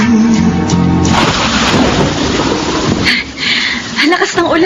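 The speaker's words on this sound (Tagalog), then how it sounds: "Ang lakas ng ulan." Heavy rain pours down in a dense, continuous roar with a low rumble of thunder, loud and close, while a voice speaks briefly near the end.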